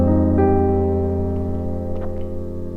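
A single gospel piano chord rings out and slowly decays, with a brief higher note touched near the start and light movement near the end, played alone and close.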